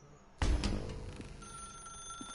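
Telephone ringing in The Stanley Parable, an abrupt loud bell ring bursting in after a quiet start, then decaying with shorter repeated rings trailing off.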